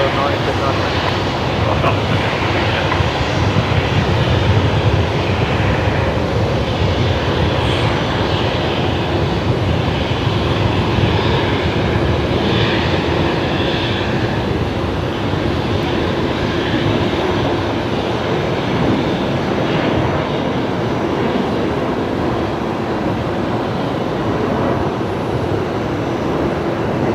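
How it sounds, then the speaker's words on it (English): A Qantas Link Embraer airliner departs Brisbane Airport at night, a continuous, loud, rumbling engine roar that holds steady throughout, with voices talking beneath it. "Embraer heading off to Newcastle tonight"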